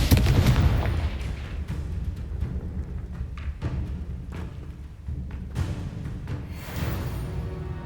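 In the Hogwarts Legacy video game, the Confringo explosive spell and combat spellcasting produce dense, booming blasts and rumbling impacts over a constant loud battle din.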